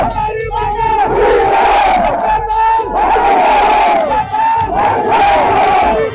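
A crowd chanting and shouting in unison during a mock riot drill at a CRPF Raising Day ceremony, loud rhythmic battle-cry bursts repeating about every two seconds, close and dominant.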